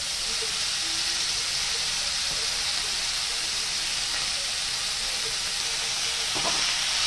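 Chickpea greens (chola saag) fry with salt in a pan over lowered gas, a loud, steady close-up hiss and sizzle running throughout with faint stirring knocks near the end.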